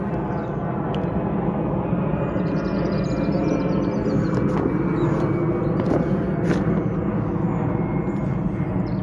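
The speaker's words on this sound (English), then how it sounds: "Barely see that plane, I can hear it." A steady low roar of an airplane passing overhead, distant and continuous, on a misty morning at an allotment, with a few faint bird chirps on top.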